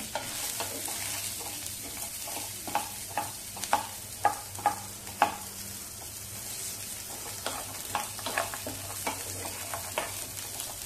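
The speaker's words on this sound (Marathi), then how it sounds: "आता आपण हा 1 कांदा कापून घेतलाय तो घालूया आणि चांगला आपण आणखी परतवून घेऊया सगळा मसाला." Chopped onion and masala sautéed in a pan for methi matar malai, a soft continuous sizzle punctuated by a series of rhythmic spatula scrapes and taps against the pan, over a low steady hum.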